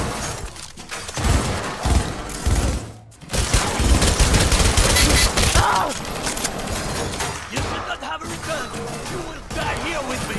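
Pistol gunfire in the modded video game Cyberpunk 2077, loud dense bursts of shots and impacts packed together over a busy in-game soundscape, nearly unbroken throughout.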